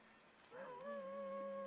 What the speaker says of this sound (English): Hear that weird howl.